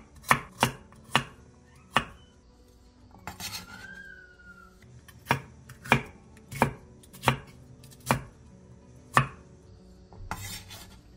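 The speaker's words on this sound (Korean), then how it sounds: "양파 반개, 당근 3분의 1개, 파프리카 2분의 1개를 먹기 좋은 크기로 큼직하게 잘라주세요." Knife chopping half an onion, a third of a carrot and half a paprika into large chunks on a cutting board, with a dozen or so sharp, close, unevenly spaced thuds and brief pauses between cuts.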